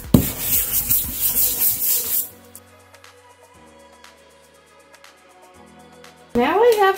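A dish brush scrapes across paper for mark making, loud rough scrubbing strokes in the first two seconds, then near silence before a burst of other sound at the end.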